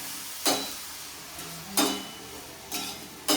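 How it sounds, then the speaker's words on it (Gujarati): Vegetable sabzi stirred in a pan over a very low flame: four spaced, scraping strokes of a spoon against the pan over a soft background hiss, close and moderately loud, with no talking. "હવે આપણે સબ્જીને હલાવવું પડશે"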